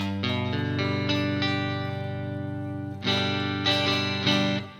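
Strummed major guitar chord fretted with four fingers, with a full, ringing tone and effects, a sustained chord followed by several sharper strums near the end.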